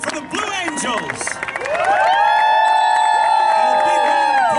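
A large outdoor crowd at the Blue Angels air show at NAS Jacksonville in 2018 cheers and whoops, rising into a sustained roar after an announcer speaks. A loud, steady tone runs over the crowd noise.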